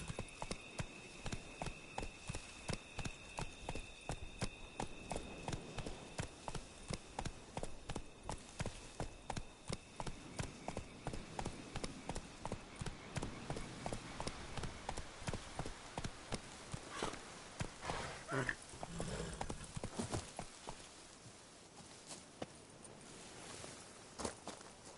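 Horse hooves clip-clop at an even walking pace in Fallout 4, faint and regular for about twenty seconds before slowing and fading into quieter ambience.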